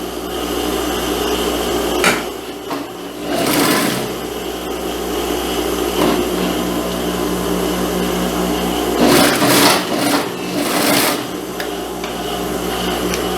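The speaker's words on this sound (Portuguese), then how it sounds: "Coloco aqui nessa posição e costuro aqui de uma pontinha a outra." Close, steady machine hum of a sewing machine stitching a bias binding join from end to end, running continuously with a few louder bursts and rattles over about thirteen seconds.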